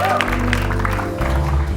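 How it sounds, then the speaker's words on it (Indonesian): A studio audience on an Indonesian TV talk show applauds: brief, dense clapping that carries over a steady musical backing throughout. "cukup tepuk tangan dong untuk mereka nih"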